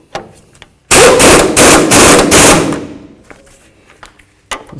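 An impact wrench runs down the wheel hub bolts on a 2003–2009 Toyota 4Runner front hub in one loud, close, rapid hammering burst lasting about two seconds, followed by a quieter tail.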